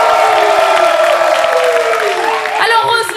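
Outdoor concert audience at a summer radio show applauding and cheering, loud dense crowd noise throughout with a voice talking over it.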